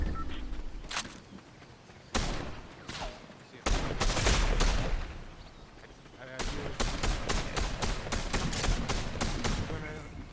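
Gunfire from snipers in a video game battle, rapid sharp shots and bursts in clustered volleys, loud and close, with quieter pauses between them and the faint shuffle of movement.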